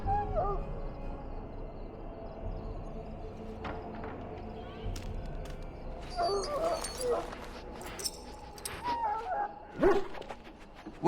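Dog in Dragon Age Origins whimpering and yipping in a few short, close bursts over a steady low ambient game background, with occasional clipped barks toward the end.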